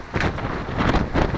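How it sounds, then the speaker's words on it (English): Strong wind gusts at about 25 to 30 knots roar across a sailboat at sea near the Marshall Islands, a loud continuous buffeting rush over the microphone. "Still pretty windy, it's been windy for a quite long time."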